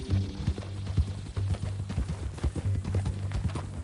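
Horse hooves clip-clop in steady rhythm in Red Dead Redemption 2 gameplay, close and moderately loud, with no talk over them.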